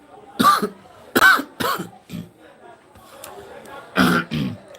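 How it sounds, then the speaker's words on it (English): A person coughs several times in short, sharp bursts, with brief throat clearing between them, close and fairly loud in a quiet room. "Please forgive me, just having a little cough."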